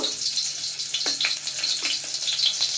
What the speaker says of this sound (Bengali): একটা একটা করে বেগুন আমি দিয়ে দেব